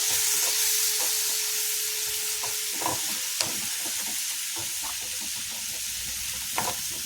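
A tomato-based curry being sautéed in a pan, with a continuous close sizzle, intermittent stirring scrapes and clicks of a spoon against the pan, and a few sharper ticks, no talking.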